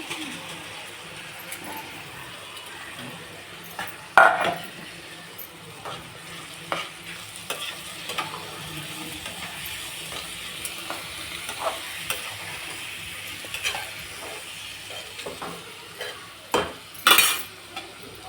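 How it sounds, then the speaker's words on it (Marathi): Rice being stirred in oil with Maggi masala in a frying pan for veg pulao: a steady sizzle under repeated scraping strokes, with a few sharper clinks of the spoon against the pan. "हलवून घेऊ त्याच्यात आपले तांदूळ"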